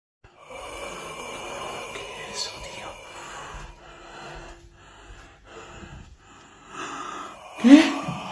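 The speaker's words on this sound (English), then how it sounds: "One day he heard a strange, even terrifying, breathing sound and started filming again." Strange, raspy breathing and wheezing sounds come in uneven waves in a quiet room, with faint whisper-like noise and a sharp gasp near the end.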